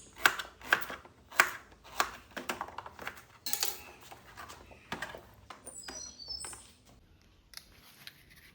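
Sweet potato being finely chopped with a knife on a board, a series of sharp, quick knocks in uneven bursts, close and fairly quiet, fading into softer scraping and faint high chirps toward the end.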